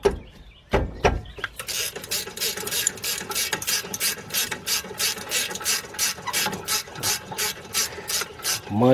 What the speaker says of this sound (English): So I'm going to use a 9/16 quick wrench.